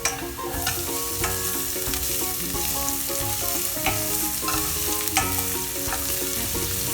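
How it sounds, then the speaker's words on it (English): Ginger, garlic and onions sauteing in a hot pan, with a loud continuous frying sizzle and frequent clinks and scrapes of a spoon stirring against the metal, with no talk. "Saute them and add the onions."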